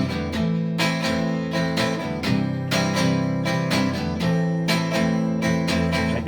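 A guitar plays the intro of a song, strummed chords in a bright, rhythmic pattern with short breaks between phrases, played alone.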